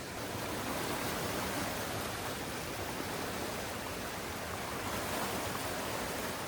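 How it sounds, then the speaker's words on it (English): A fast-flowing woodland river rushes in a steady, loud broadband roar, close by and unbroken throughout, with no voices over it. "This river is so fast, it's ridiculous."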